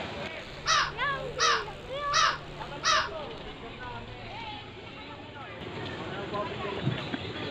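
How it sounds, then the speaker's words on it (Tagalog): Four loud crow caws in a quick, evenly spaced run near the start, then a bustling outdoor background at a cyclists' meet-up, with distant chatter and a low engine hum. "Oy, may uwak oh."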